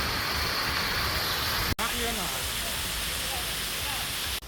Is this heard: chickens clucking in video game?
no